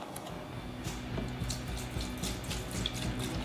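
Liquid is poured into a pan in a workshop while a rusty mini bike gas tank is being cleaned, a steady close splashing and trickling with small sloshes and no speech.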